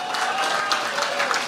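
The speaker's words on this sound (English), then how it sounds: "give her a round of applause too" A brief burst of audience applause at an annual conference, fairly loud and continuous clapping from a room of people, with no voice standing out.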